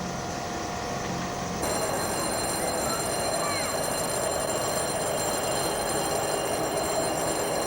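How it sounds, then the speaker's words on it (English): A steady, loud rumble of a train with bell-like ringing tones layered on top, rolling continuously without a break. "Slowly the train gets going, departing for a long trip."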